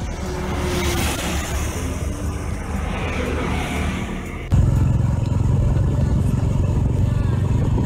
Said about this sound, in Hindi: हम लोग आभास की नई बाइक की सवारी कर रहे हैं